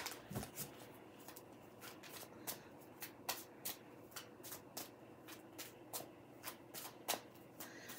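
Cards riffle and snap in quick repeated bursts as a Dream of Color tarot deck is shuffled, crisp flutters recurring every half second or so, close and clear with no talking.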